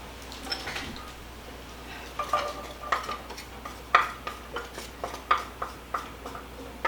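Peppers and onion being stirred in a pan, a utensil clinking and scraping against the metal in a steady rhythm of roughly one knock per half second over a faint background hiss.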